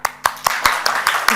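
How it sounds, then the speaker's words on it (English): Claps ring out at a technical conference talk on MarkLogic, about six spaced, fairly loud handclaps in a slow uneven rhythm, close by, with no speech over them. "You guys can applaud."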